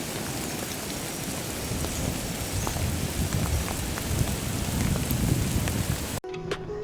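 Steady, heavy rain pours down during a motorcycle trip in Turkey, a dense, continuous hiss and patter close by that cuts off abruptly just before the end.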